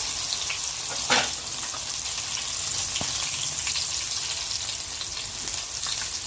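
Crushed garlic frying in a pan gives a steady, close sizzle and crackle with an occasional louder spit, heard alone throughout.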